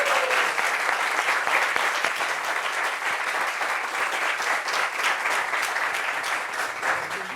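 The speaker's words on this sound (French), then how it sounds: "Applaudissements pour lui, s'il vous plaît." A studio audience applauds a guest on a French-language talk show, a steady, dense wash of clapping hands that holds evenly at close range for the full stretch without a break.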